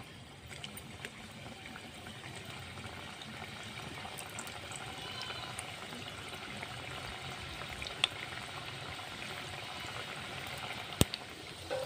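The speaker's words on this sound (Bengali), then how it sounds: "এইবারে আমি এক এক করে বিস্কুটগুলো ছেড়ে দেবো তেলে।" Cumin biscuits made from wheat flour frying in gently heated oil, a steady soft bubbling and crackle throughout with a couple of faint clicks, no talking.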